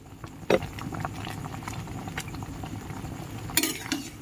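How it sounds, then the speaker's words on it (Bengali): Raw mango sweet-sour-spicy pickle with Kashmiri chilli powder is stirred in a pan, giving soft scraping and a low bubbling simmer, faint and close, with a couple of sharper clinks of the spoon. "তারপরে একটু নাড়াচাড়া করে দিচ্ছি"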